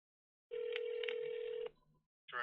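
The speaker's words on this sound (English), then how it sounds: "They're not even answering the phone." A telephone ring tone on an unanswered call, one long electronic ring burst lasting about a second, clear and alone, followed by the start of a second ring.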